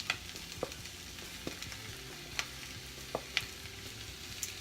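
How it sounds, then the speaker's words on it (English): Broccoli tipped into a hot pan of lemon kale pasta, with a steady low sizzle and a few sharp clicks and taps of food and utensil against the pan, fairly close and with no talking. "Okay, I'm gonna go ahead and add my broccoli."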